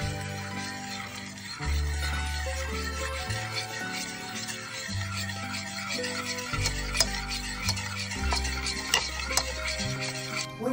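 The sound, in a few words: stirring coconut cream sauce in a saucepan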